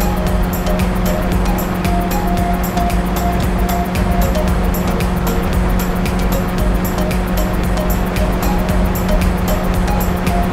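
A motorcycle in the game LifeAfter runs flat out at its top speed of 120 km/h, a loud continuous engine drone with steady hum and rushing wind noise throughout, unbroken and unchanging.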